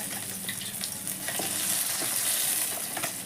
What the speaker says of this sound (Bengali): মাছটাকে হালকা করে ভেজে নিই।